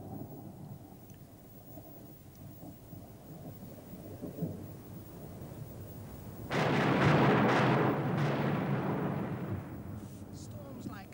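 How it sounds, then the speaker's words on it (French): A loud rumble of thunder breaks in partway through, over a steady hiss of falling rain. "Un orage tel que celui-ci peut apporter la mort et la destruction."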